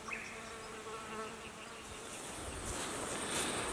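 Bees buzz steadily around backyard beehives during honeycomb harvesting, a continuous close drone with no talk, with the hum swelling louder and brighter toward the end.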